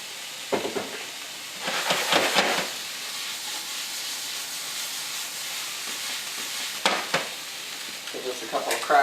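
Mushrooms fry in a pan with garlic for beef stroganoff, a steady close sizzle and hiss broken by a few bursts of stirring and scraping, with no talk.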